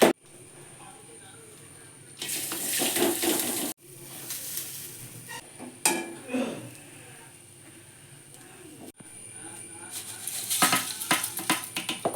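Ingredients lightly frying in a pan in a village kitchen, a steady sizzle with stirring and clattering bursts, with brief pauses between them.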